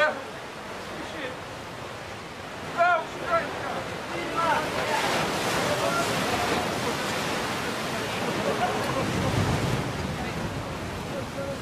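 Ocean waves and heavy surf crash continuously around a sea rescue of men in the water, a broad, loud wash that swells and surges throughout with brief louder bursts.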